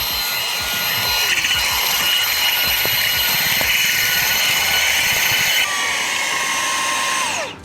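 A Fanttik Slim V10 Mix compact cordless vacuum runs on high, a steady loud whine with whooshing suction that holds for several seconds, then shifts pitch and winds down near the end.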